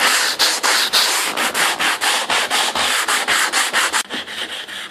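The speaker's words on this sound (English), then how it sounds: "And more sanding." Sanding filler on the wooden hull of a Skipjack boat being built: steady, rhythmic back-and-forth rasping strokes, close and loud, about four per second with no talking.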